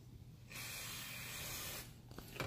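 Aerosol carburetor cleaner sprayed onto small brass carburetor parts, a single steady hiss lasting over a second, fairly close, followed by a brief quieter burst.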